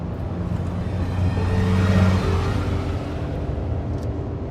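Cars drive past near the Kolomna Kremlin walls, a steady engine and tyre rumble that swells as one vehicle passes close in the middle, then fades to continuing traffic.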